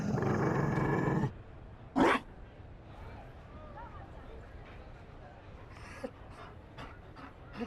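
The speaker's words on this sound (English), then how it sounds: "You found a dog." A Mabari war dog in Dragon Age Inquisition pants heavily and rhythmically up close, followed by a short rough growl, then quieter breathy snorts and scuffles in a calm setting.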